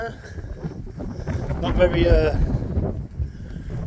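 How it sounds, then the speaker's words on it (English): Wind gusting across the open Shropshire Hills, a rough, buffeting rush swelling and easing over a few seconds while people talk nearby. "the wind's coming in here, this way."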